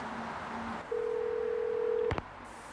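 A telephone receiver is lifted, a steady dial tone hums for about a second, then a sharp click cuts it off and faint quiet remains.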